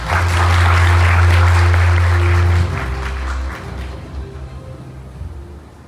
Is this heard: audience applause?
yes